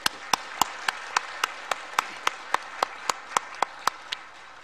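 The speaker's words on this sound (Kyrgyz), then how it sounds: "Ошон үчүн бир кол чабып койсок." One person clapping at a steady even beat in a hall of deputies, about sixteen sharp claps that stop abruptly, with a faint room hum underneath and no voices.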